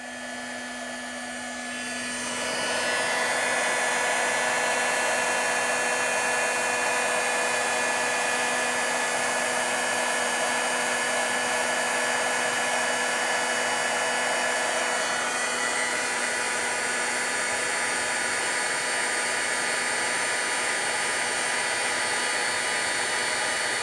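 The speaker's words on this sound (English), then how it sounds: "let me get my embossing heat tool here" An embossing heat tool switches on and blows hot air in a loud, steady whooshing hum that holds constant for about twenty seconds, with a slight shift in tone midway and no talking.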